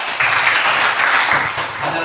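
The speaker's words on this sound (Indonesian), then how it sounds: "Bagus, tepuk tangan." A classroom group claps together during a practice teaching lesson, a steady burst of applause lasting about two seconds, fairly loud and close, with a soft pause partway through.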